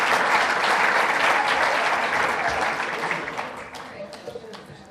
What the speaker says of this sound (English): Another round of applause for our winners, please.